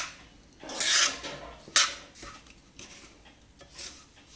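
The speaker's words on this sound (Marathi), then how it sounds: "रवा भाजताना मंद आचेवरच रवा भाजायचा आहे" Semolina (rava) roasting over a low flame in a pan for rava laddoo, stirred with a utensil, producing soft, close scraping and gritty rubbing strokes in irregular bursts, with no talking.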